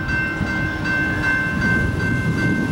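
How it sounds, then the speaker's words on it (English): A train rumbles steadily close by in southern New Mexico, with a sustained high tone riding over the low rolling noise. "that's Gavin and I's last train for the day"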